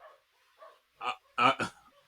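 A dog gives two or three short, sharp barks close by, the last pair loud and in quick succession, with faint murmuring voices before them.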